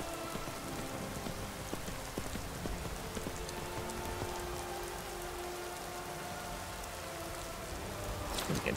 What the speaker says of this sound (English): Ooh, and it's a cold rain. Cold rain gonna fall.